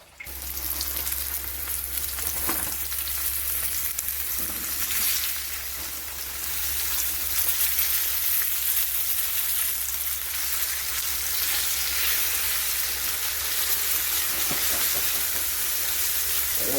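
Flour-coated fish frying in a pan over a fire, a steady loud sizzle and hiss that holds for the whole stretch, with a few faint stirs and clinks underneath.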